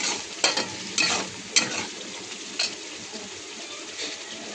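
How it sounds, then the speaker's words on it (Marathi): Puréed spinach is stirred into oil-fried masala for palak paneer, giving a steady low sizzle broken by a few sharp scraping spoon strokes against the pan, with no voices. "आता याच्यात आपण पालक टाकू"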